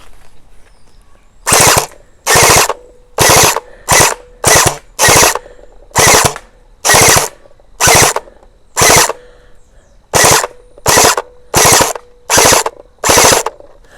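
A Gel Blaster Surge toy blaster fires gel balls in rapid full-auto bursts: about a dozen loud, buzzing mechanical rattles, each lasting about half a second, separated by short pauses, heard close with no talking.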